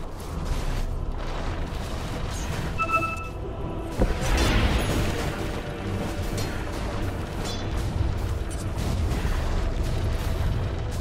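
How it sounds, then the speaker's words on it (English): Dota 2 battle sounds around the Dire bottom tower under attack: continuous layered clashes, bursts and impacts at moderate level, with a few short tonal ability chimes and a heavier thump near the middle. "Dire's bottom tower is under attack."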